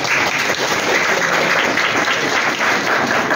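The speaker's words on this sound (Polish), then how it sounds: "Brawa, bardzo pięknie." A political party meeting audience in Mielec bursts into steady, dense applause, many hands clapping together at close range for a few seconds.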